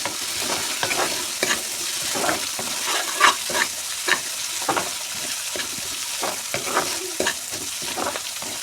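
Onions sizzle and fry in a pan with turmeric, chili, cumin and ginger paste as a spoon stirs them in repeated scraping strokes, steady and close for several seconds with no talk.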